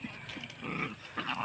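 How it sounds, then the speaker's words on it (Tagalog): Several dogs barking and growling in play near a banana grove, their noisy yips and snarls overlapping in irregular bursts close by. "Naglaro-laro po yung aso, ang ingay nila."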